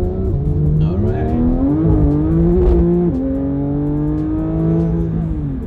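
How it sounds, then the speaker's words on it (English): A car engine revs hard and close, its pitch climbing and falling through several sustained pulls, loud and steady throughout with no talking over it. "This car sounds awesome."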